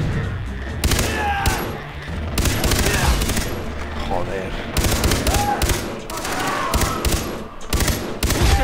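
Far Cry 3 gunfire rattles in dense automatic bursts and single shots, loud and continuous, with someone speaking briefly over the shooting.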